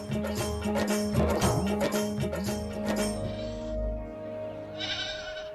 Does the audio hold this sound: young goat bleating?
yes